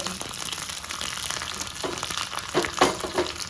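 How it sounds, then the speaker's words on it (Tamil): Shallots, dried red chilies and curry leaves frying in oil give a crackling sizzle with irregular pops and stirring clatter, moderately close and steady throughout. "எண்ணெயில் நல்லா வறுவிட்டதுக்கப்புறம் மிளகாய், கருவேப்பிலை எல்லாம் நல்லா வறுவிட்டுச்சு"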